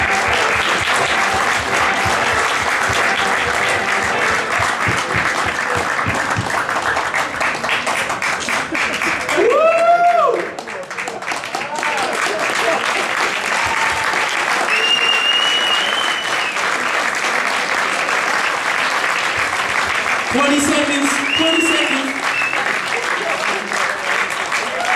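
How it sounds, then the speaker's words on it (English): An audience at a double-routine final of the Super Ball 2012 yo-yo contest in Prague gives loud, sustained applause and cheering that fills the whole stretch, with a few brief whoops and shouts rising above it. "So let's have a round of applause for these guys."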